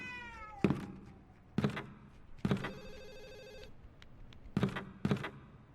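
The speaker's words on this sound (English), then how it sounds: "You probably heard the ringing phone downstairs, and obviously there's a creepy cat somewhere in this room." Inside the Ju-On: The Grudge video game, a telephone rings with a long electronic tone while a cat meows several times, each cry loud and distinct against a quiet, eerie background.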